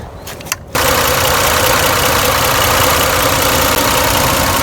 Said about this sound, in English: Just started the car for the first time.